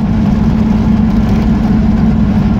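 A ZAZ car's engine drones steadily while driving at about 70 km/h, a loud, continuous low rumble from the cabin with no pauses and no talk.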